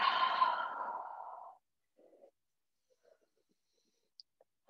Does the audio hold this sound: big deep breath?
yes